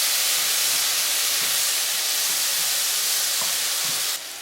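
Noodles with asparagus and broccoli stir-frying in sauce, a loud, dense steamy hiss close by that holds steady and then drops away abruptly at the end.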